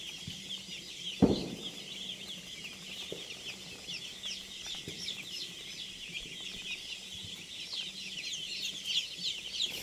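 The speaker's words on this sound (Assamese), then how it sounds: "এয়া চাওক পোৱালিখিনি কেনেকৈ খাই আছে" Broiler chicks chirp steadily in a chorus on a poultry farm brooder at evening feeding time, with faint pecking and a sharp knock near the start, no voices.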